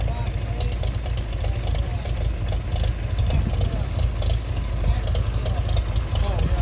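A 1967 John Deere tractor engine idling at an outdoor tractor cruise, a steady low rumble that continues throughout without pause.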